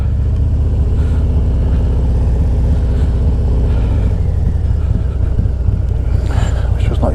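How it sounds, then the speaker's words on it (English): Traffic rumbles steadily nearby as vehicles roll past, a Harley-Davidson Road Glide Special motorcycle with a performance cam droning underneath and a brief whoosh near the end. "cars coming."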